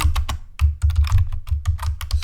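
Rapid, uneven clatter of computer keyboard keys as login details are entered during a web test automation lesson, the clicks fairly close and continuous with short pauses, no talking over them.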